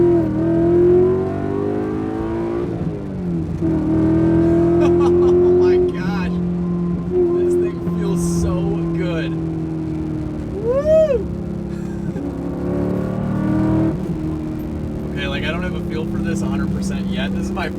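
BMW M5 with an S62 V8 under wide-open throttle on back roads, the engine's steady rising drone running loud and continuous throughout, with someone talking over it.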